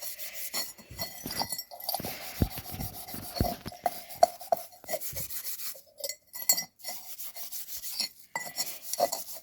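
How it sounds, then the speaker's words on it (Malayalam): A bell-metal (brass) pot is scrubbed by hand with household cleaning items, giving close, rasping rubbing strokes in uneven bursts with short pauses and occasional light metallic clinks. "അപ്പം നന്നായിട്ടൊന്ന് വെളുക്കാൻ വേണ്ടി നമ്മൾ കുറച്ച് നന്നായിട്ട് ഉരച്ചു കൊടുക്കുന്നുണ്ട് കേട്ടോ"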